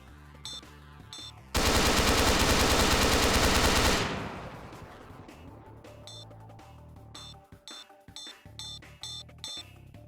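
Gunfire in S&box (Garry's Mod 2) gameplay, a loud sustained automatic burst of about two and a half seconds, followed by scattered clicks, thumps and short shots from the game.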